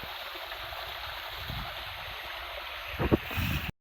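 Water rushing steadily at the top of a waterfall, a continuous broad wash of sound with a brief splashy swell near the end before it stops abruptly.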